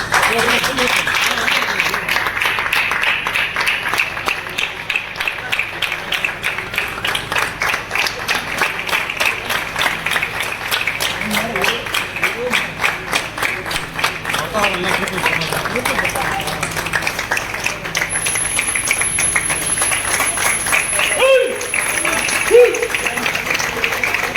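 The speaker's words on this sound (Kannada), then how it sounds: "ಎಲ್ಲ ಜೋರಾಗಿ ಚಪ್ಪಾಳೆ ಮುಖಾಂತರ" Loud, sustained applause from a gathered crowd honoring someone at a ceremony, dense clapping continuing without pause for a long stretch, with voices mixed in underneath.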